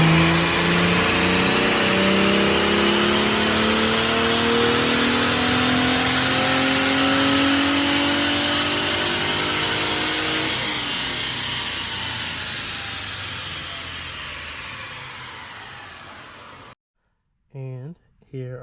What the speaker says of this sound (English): So now we're gonna head to the dyno and we're gonna do some pulls